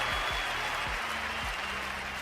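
Audience clapping at a beat battle event, a steady broadband wash of applause that fades slightly toward the end, with low thumping hits underneath.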